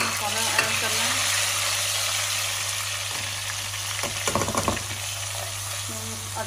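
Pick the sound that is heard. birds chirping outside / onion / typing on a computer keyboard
onion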